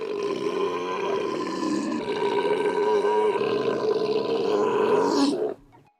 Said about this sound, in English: They spliced in an actual recording of a camel in the middle of an orgasm.